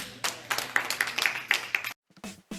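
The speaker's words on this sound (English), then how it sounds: "Clap your hands and give God praise" A church congregation claps in praise: a steady run of close, rhythmic handclaps on a regular beat for about two seconds, then a sudden stop and a few brief sounds after.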